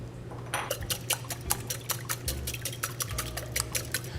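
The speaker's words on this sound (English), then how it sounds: "So what I'm adding here is the eggs into the bowl." Whole eggs poured into a mixing bowl with a series of soft wet plops and clinks against the bowl, a close, quiet run of repeated splashes with no talk.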